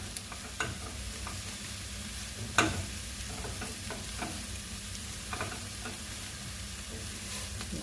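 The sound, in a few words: stirring fennel and carrots sautéing in a pan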